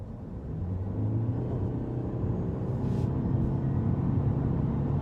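A Toyota Corolla engine with a CVT transmission drones loudly and steadily with a low, constant rumble and whir, holding an even pitch throughout.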